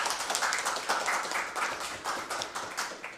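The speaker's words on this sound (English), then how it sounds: "a huge round of applause for Sejal as well." Steady applause from an audience honouring a best paper award winner at a conference closing ceremony, a dense, even patter of clapping with no pauses over a few seconds.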